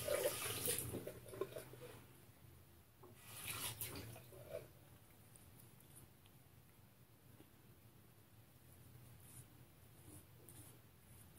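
Water rinsing a non-electric vibrating razor after a shave, a soft running and splashing flow that swells in short bursts near the start and then fades to a faint trickle.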